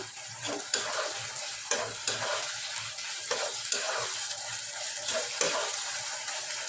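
Rice and lentils frying in a pan for a beef tehari, with steady sizzling and repeated scraping stirs at a close, moderate level, no voices.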